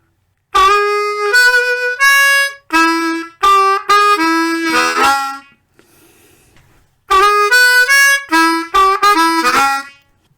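Blues harmonica playing the second riff of a song, a run of bent, scooped draw notes and blow notes in short punchy phrases, loud and close, played twice with a brief quiet gap between.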